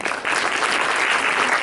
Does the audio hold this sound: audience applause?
yes